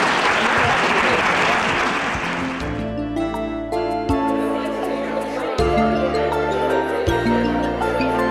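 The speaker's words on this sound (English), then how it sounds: "So maybe a round of applause for these guys up here on our panel." Applause from a conference audience at a private practitioners' colloquium, honouring a panel: dense clapping for the first few seconds that thins out, followed by clinking and a voice speaking over the room.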